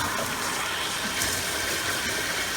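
Water rushes through RV toilet plumbing as antifreeze is flushed out during dewinterization, a steady, loud, close gushing with no break and no voices.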